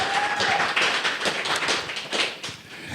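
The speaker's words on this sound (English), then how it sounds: "Let's give Evan a round of applause for the information that he shared." A short burst of applause from a motivational-talk audience, dense clapping fading slightly toward the end, with no one speaking.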